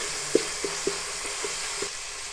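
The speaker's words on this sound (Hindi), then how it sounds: "लहसुन हमारा अच्छा सा भुन चुका है।" Garlic frying in a pan for Turkish soup, a steady soft sizzle with several light clicks of stirring utensil against the pan, close and alone without talk.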